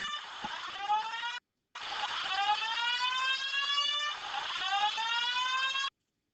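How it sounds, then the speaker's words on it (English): A fire alarm blares in a continuous harsh electronic tone during a math lesson, cutting out briefly before resuming, loud and fairly close. "We got fire alarms going off."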